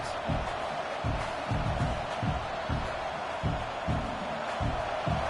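A large stadium crowd roars continuously in the video game College Football 26, with rhythmic thumping swells rising and falling under the steady wash of cheering.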